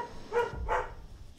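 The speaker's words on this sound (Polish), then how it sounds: "Czekajcie, Egida szczeka." A pet dog barks twice at close range in a quiet home room, two short sharp yaps less than half a second apart, with no talking over them.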